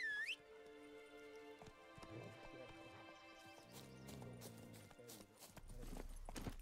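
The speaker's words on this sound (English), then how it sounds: "So have your horse come to you." A horse in The Witcher 3: Wild Hunt video game trots up with rhythmic hoof clip-clops and a brief whinny, set against layered game music and ambience, fairly faint overall.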